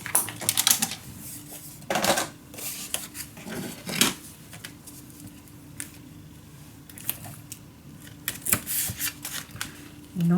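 Paper being scored and cut for a Strawberry Lane scrapbook folio, a series of close, crisp scraping and snipping strokes in irregular bursts, with faint talk in the background.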